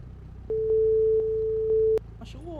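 A telephone busy signal beeps in a steady repeating tone for about a second and a half, followed by a brief voice.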